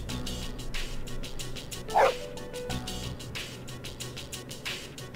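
A dog barks in the Persona 3 video game, a short yip that stands out once over a steady, busy game background of music and ambience.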